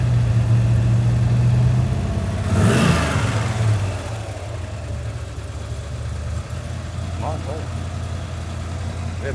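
A hot rod car engine at a car show runs with a steady low hum, briefly swelling in a quick rev before settling back to a smooth idle; a voice speaks over it.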